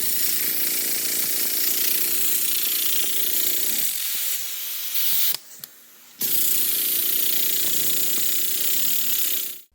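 A homemade pneumatic Fremen thumper pounds a floating anvil with a loud, rapid, harsh hammering hiss that drops out briefly around the middle, then resumes and stops.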